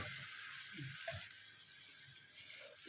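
Egg frying gently on low heat in a covered pan, giving a soft, steady sizzle throughout with a few faint clicks and bumps.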